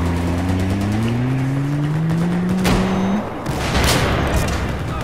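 Combat in the shooter game Battlefield 4, with a loud sustained rumble of shots and explosions, a rising engine whine in the first three seconds, and a sharp burst near the end.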